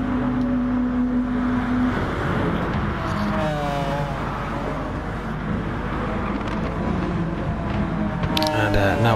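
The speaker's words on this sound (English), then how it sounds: "I do love the noise of that McLaren. It is a good sounding car." A McLaren race car engine roars steadily in a racing video game at Fuji, with rising and falling gear pitch while a voice talks over it.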